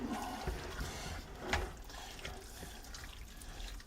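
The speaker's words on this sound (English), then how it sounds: "I'm going to take the canned tomatoes that I've got here and put them right on in there. Stir it up." Canned tomatoes pour into a pot of chili and get stirred, a close, continuous wet sloshing and splattering with a few soft clinks, heard alone without talk.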